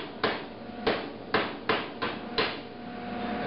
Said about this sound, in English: This is when you need to use your hammer